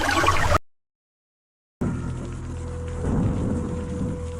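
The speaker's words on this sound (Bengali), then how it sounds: "সকাল থেকে একটানা টিপটিপ বৃষ্টি পড়ছে" Steady light rain patters and hisses continuously, with a low rumble underneath and a short gap of silence early on.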